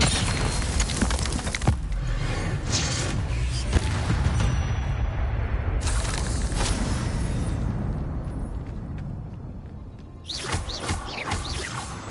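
Combat in Hogwarts Legacy as the Descendo spell slams an enemy down: repeated loud crashing booms and smashing impacts over a continuous rumble of battle noise, with a fresh burst of crashes near the end.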